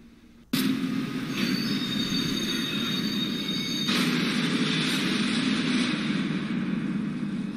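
A train in the video game Rails Unlimited runs and derails, a sudden onset of rumbling rolling noise with faint squealing wheel tones and a second jolt midway, steady and continuous with no talk.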